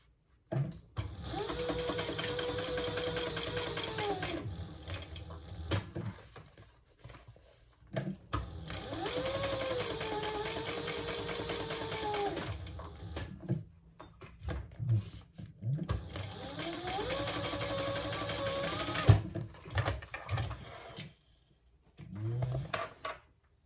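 Sewing machine stitching fabric while making petit four baskets, running in three long bursts of steady whirring with short pauses between, close and fairly loud, with no talking.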